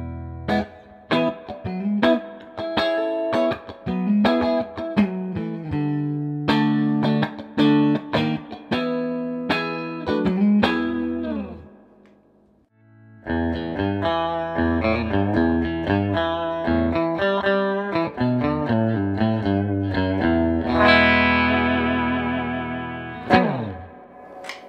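A clean Cornell Romany 12 electric guitar with single-coil pickups plays picked chords and single notes with a bright, glassy tone, pausing briefly midway before resuming with strummed, ringing chords.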